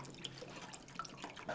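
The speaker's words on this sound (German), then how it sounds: "Ich schütte da jetzt einfach kaltes Wasser drauf." Cold water pours and trickles faintly onto a tea bag for a cold brew inside a bunker, a soft, brief liquid splashing with small drips.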